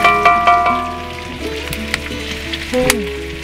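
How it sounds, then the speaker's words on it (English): Garlic frying with pork belly for adobo in a pan outdoors, a steady close sizzle with clinks and scrapes of stirring throughout. "At halu-haluin natin para ang ating garlic ay maluto din."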